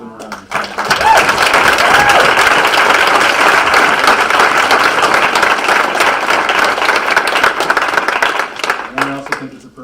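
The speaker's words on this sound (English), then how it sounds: "I'll give them a round of applause." Audience members at a Patriot Fleet veterans event applaud veterans standing in the crowd, a loud, dense burst of clapping that swells quickly and holds steady for several seconds before fading.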